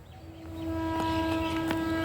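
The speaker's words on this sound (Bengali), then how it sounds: "ওই দেখো আরেকটা ট্রেন আসছে এক্সপ্রেস ট্রেন" An express train pulls into a station platform, its steady tonal hum and rumble swelling louder over about two seconds, with brief sharp bursts on top and no speech.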